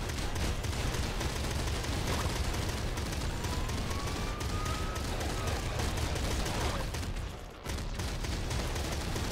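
Grenade launcher explosions rumble through the video game Nuclear Throne Ultra Mod as a dense, continuous barrage of booming blasts, loud and sustained with a brief dip near the end.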